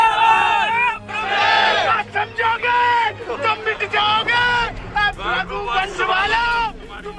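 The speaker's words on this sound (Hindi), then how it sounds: "चारों तरफ नेताजी की जय जयकार हो रही थी।" A dense crowd of supporters cheers and chants for a politician on a highway, loud overlapping shouting voices rising in repeated bursts over steady crowd hubbub throughout.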